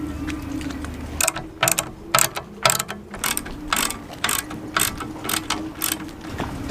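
A hand ratchet clicks in repeated bursts while roll bar bolts are tightened on a sailboat, loud and close, each burst a quick chatter of pawl clicks separated by short pauses over a faint steady hum.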